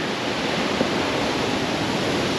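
A waterfall near a trail, heard as a steady, dense roar of rushing water, fairly close and even throughout, with no voices.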